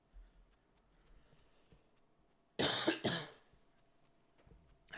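A person coughs twice in quick succession, loud and close, against an otherwise quiet background with faint ticking.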